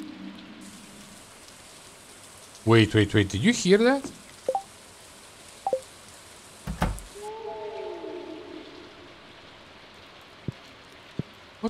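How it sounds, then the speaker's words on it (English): Rain falling in the video game Stardew Valley: a soft, steady hiss of rainfall running beneath the scene, with bursts of game chimes and beeps and a person talking over it. "And the rain today."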